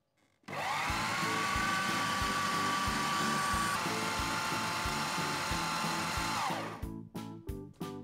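An electric food chopper grinds raw chicken in a loud, steady motor whir that lasts about six seconds before spinning down and cutting out.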